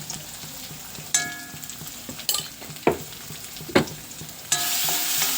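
Green chili, garlic and ginger frying in oil for a jackfruit pickle, a close steady sizzle with several sharp stirring clatters and a louder hiss swelling at the end, no talk.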